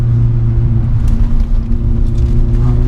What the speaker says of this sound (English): you can blip it into second like that